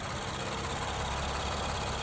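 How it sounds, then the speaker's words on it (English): The 3-liter twin-turbo V6 of a 2023 Nissan Z idles with the hood open, a steady, close, low rumble with no other sounds. "Let's pop the hood, take a look at this 3-liter twin-turbo V6."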